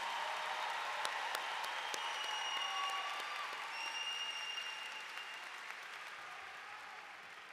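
Large crowd of families and guests applauding graduates at a high school commencement, steady broad clapping that fades slightly toward the end, with faint cheers and whistles over the top.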